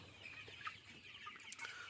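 Chickens on a poultry farm cluck softly and scatter faint calls across a quiet background, close but low in level.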